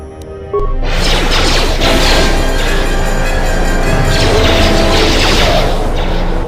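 A grenade blast during combat in Star Wars KOTOR II, a sudden loud boom followed by a sustained, roaring crash of noise that fills the space.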